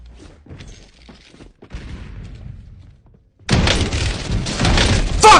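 Gunfire in a first-person shooter video game, a loud dense burst of rapid shots arriving suddenly after a few seconds of muffled thuds and quieter movement sounds.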